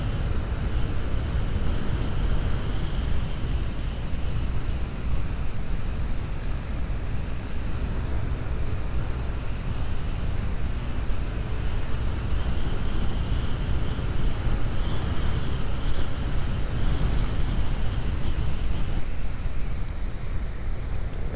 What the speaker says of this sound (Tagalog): Medyo bugbog sa hangin dito. Lakas ng hangin.